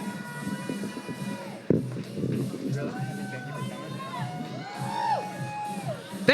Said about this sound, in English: big round of applause for our winners, guys